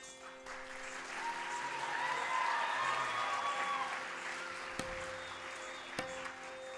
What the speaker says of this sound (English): Another round of applause for Ira, please.